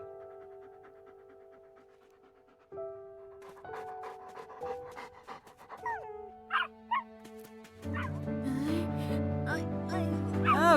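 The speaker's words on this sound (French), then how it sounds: "Ah, non, c'est des chiens, pardon." Cartoon dogs arrive in the My Little Puppy video game, with quick panting and short yips over a tinkling, melodic game soundtrack that builds louder toward the end.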